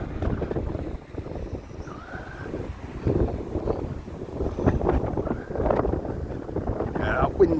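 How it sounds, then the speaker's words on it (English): Gusty wind buffets the microphone on Blackpool promenade, a constant low rumbling roar that swells and eases, with people talking over it. "that wind's a bit too much in it"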